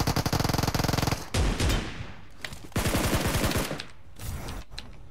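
Rapid automatic gunfire in the mobile shooter PUBG Mobile, a fast rattling burst followed by further loud volleys and scattered shots, close and harsh with no talk.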